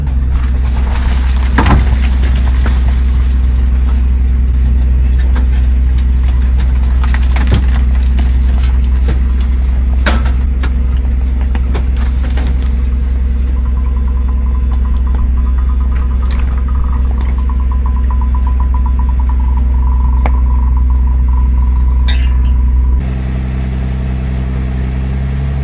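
An off-road vehicle engine drones loud and constant as it crawls over a rock ledge, with a steady low rumble, a few knocks and clunks from the rocks, and a slight change in tone near the end.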